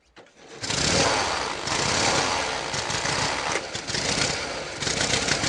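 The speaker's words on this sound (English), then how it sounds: "So I'm going to advance that spark all the way up. In this case, this bike ought to start right up." A 1919 Indian motorcycle engine kicks into life after a brief quiet start, then runs loud and close with a rough, uneven chugging idle that surges and dips, no talking over it.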